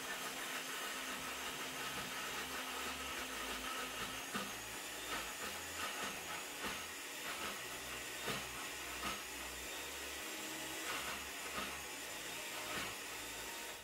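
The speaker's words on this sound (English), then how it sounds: "start the blender, and as soon as you hear the blender struggling, you add a little bit more water" A blender whirs steadily as it blends beans with a little water into batter for Nigerian akara. The motor drone is continuous and fairly loud for the whole stretch, with no talking.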